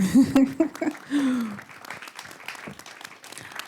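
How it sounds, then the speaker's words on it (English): Audience applause at a community talk breaks out right after a voice, swelling into a steady wash of clapping that continues to the end. "clap, please."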